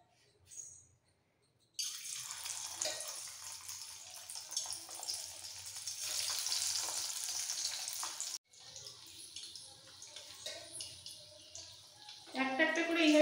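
Morola fish pakora pieces frying in hot oil in a wok over a medium-low gas flame make a loud, continuous sizzling hiss that starts abruptly, briefly cuts out, then resumes, with a voice near the end.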